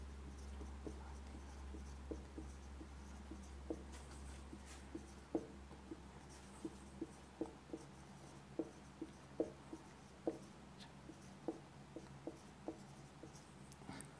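A multiplication table being written out by hand: faint, scattered pen-on-paper taps and short scratches come at an irregular pace over a low, steady hum in a quiet room.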